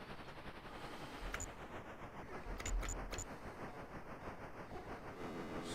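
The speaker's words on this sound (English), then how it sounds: "You've got the nice train sounds." Train sounds in an arcade slide puzzle video game, a steady rhythmic rattling clatter with a few sharp metallic clicks and bell-like pings, no speech.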